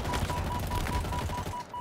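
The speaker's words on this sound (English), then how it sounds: "stop pummeling me with the damn machine gun" Rapid machine gun fire in the video game Halo Infinite, a dense, sustained burst of steady automatic shots over busy battle noise, loud and continuous with a brief drop near the end.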